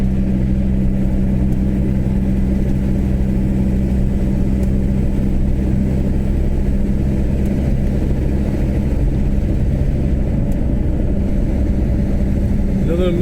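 A Mercedes 190 car engine hums steadily at low pitch, a continuous close rumble with a faint rise near the end, heard from inside or beside the car as a steady drone.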